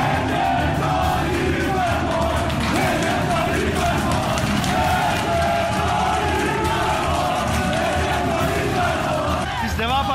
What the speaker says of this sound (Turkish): Deva Partisi lideri yayın sonrası binayı terk ettiği sırada gençler slogan atmaya devam etti